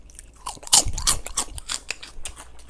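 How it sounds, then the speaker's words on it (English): Loud, close crunching of crisp salmon skin chips, several sharp bites and chews in quick succession with no talking. "Let me get close to the mic here so you can hear that crunch."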